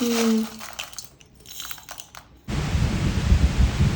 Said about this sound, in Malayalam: അങ്ങനെ കാത്തിരുന്ന് വേനൽ മഴ എത്തിപ്പോയി